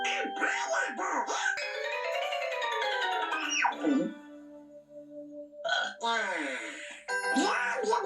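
Donald Duck, the cartoon duck, hiccups in his squawky voice, sharp jolting hiccups broken up by his garbled duck chatter, loud and close with a quieter pause in the middle.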